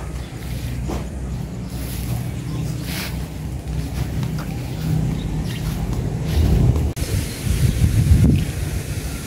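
Strong wind buffets the microphone with a constant low rumble, gusting louder near the end, outdoors where laundry hangs drying.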